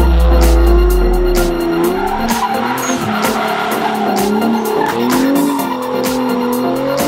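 A 1600 kg Nissan 300ZX Fairlady with a targa roof and four-wheel steering drifts. Its tires squeal loudly and continuously over a roaring engine whose pitch rises and falls, close by, with no talking.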